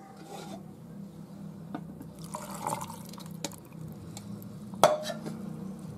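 Milk poured over strawberries for a strawberry ice cream mix, a soft trickling and splashing pour with faint rubbing and knocks of the container, then a sharp clink near the end, with no voices.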